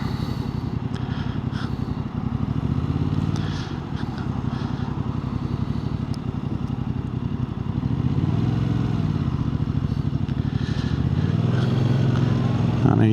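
A Yamaha MT-07 motorcycle being ridden on the road, its engine droning steadily and rising and falling with throttle under wind noise, while the rider talks over it.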